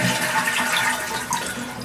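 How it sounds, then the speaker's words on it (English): A household toilet flushes during a full overhaul, loud rushing and gurgling water pouring steadily close by, with no talk over it. "Let's go ahead and flush the toilet."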